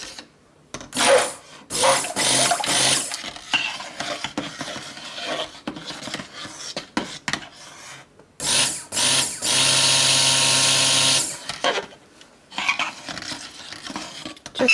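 Shaving soap batter being stirred to emulsify, with scraping and sloshing and short bursts of a whirring electric mixer, one longer burst near the end, close and alone.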